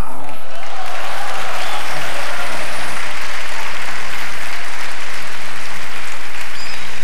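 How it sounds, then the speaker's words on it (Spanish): Loud, continuous applause from a live audience after a handkerchief magic trick, a dense, full roar of clapping that holds steady throughout. "es un aplauso desconfiadón porque piensan que el pañuelo tiene hilo"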